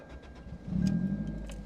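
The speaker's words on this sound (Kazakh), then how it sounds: "Түтіндеткіштің дауысын қараңыздар" A Toyota sports car's exhaust and muffler give a short, low engine rumble that swells briefly as if revved, close by with no talking.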